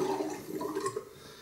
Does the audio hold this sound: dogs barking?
no